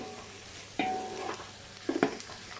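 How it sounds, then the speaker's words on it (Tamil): Mint and coriander leaves sautéing in a pan for masala biryani, a low steady sizzle broken by a couple of sharp stirring scrapes of the spatula, close and fairly quiet. "எந்த ஒரு பிரியாணிலையுமே புதினா, கொத்தமல்லி நல்லா வதங்கணும்."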